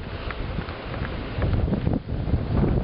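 Lake wind buffets the microphone, a loud, close, continuous rumbling roar that swells and dips in gusts.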